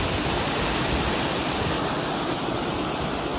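Penchupadu waterfall pours heavily with plenty of water, a dense, unbroken rushing roar that stays loud and even throughout with no voices.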